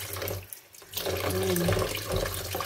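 Fish being washed under a running kitchen tap, a steady loud rush of water with splashing as the fish is moved through the stream, briefly interrupted and then flowing again.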